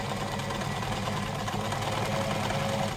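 A Japanese sewing machine runs steadily while stitching forward and back, giving a smooth, continuous mechanical whir with a fast underlying rhythm, close and alone.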